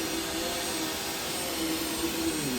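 Vacuum cleaner running in a room, a steady whining motor drone with a faint tonal hum that holds constant throughout, no voices.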